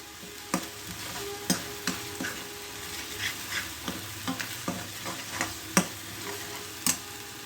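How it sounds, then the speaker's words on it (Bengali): Cumin, ginger and coriander paste stirred into other frying ingredients for a nut chicken curry, with a steady sizzle under repeated spatula taps and scrapes against the pan, close and without talking. "এই পেস্টটাকেও অন্যান্য উপকরণের সঙ্গে মিশিয়ে নিচ্ছি।"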